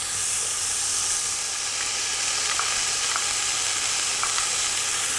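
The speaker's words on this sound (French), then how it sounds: "Et je vais ajouter des petits lardons fumés" Small smoked lardons sizzle in a pan for a Niçoise dish, a continuous close hiss of spitting fat with a few faint clicks and no one talking.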